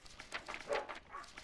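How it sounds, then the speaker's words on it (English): Dogs in the video game My Time at Portia bark and yip in quick, fairly faint bursts, several short calls in a row with no speech over them. "The dogs are barking."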